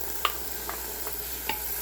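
Frozen 85/15 ground beef with diced yellow onion browns in an Instant Pot, giving a steady loud sizzle with a few scraping stirs, with no talk.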